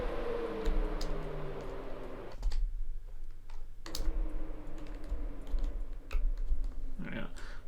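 Computer keyboard typing with a sticky button, a run of close, light key clicks in uneven bursts over a low steady hum, with talk intermittently in the background.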